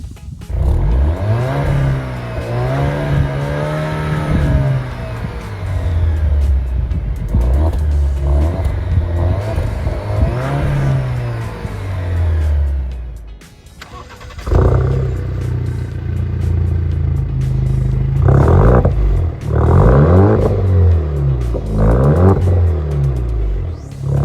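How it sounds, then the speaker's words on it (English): An Alfa Romeo Giulia engine starts and settles into a rumbling idle, then after a brief lull roars through several sharp, loud revs with no talking. "let's give you guys a little startup and a few revs"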